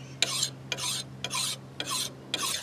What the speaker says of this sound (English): instead of filing across, once you get close to being done, like I am here, file this way, one stroke, and rotate it over